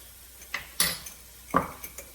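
Metal spoon knocking and scraping against a pot while spices are stirred into red lentil dahl, a few sharp clinks spaced over a couple of seconds, close and clear with no talk.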